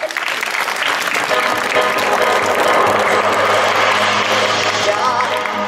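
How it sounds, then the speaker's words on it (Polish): Audience at a school Women's Day celebration clapping steadily and loudly throughout, a dense continuous applause with a low hum underneath, before a song performance. "Wielkie brawa!"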